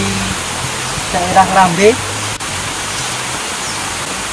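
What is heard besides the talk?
waterfall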